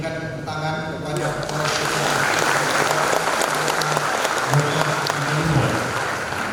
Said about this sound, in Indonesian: Mari kita sekali lagi memberikan tepuk tangan kepada